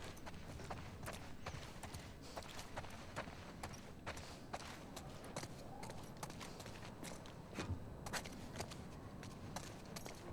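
A horse walks with steady clip-clop hoofbeats in the video game The Last of Us Part II, the hooves thudding in a regular rhythm for about ten seconds, fairly faint, with no speech over them.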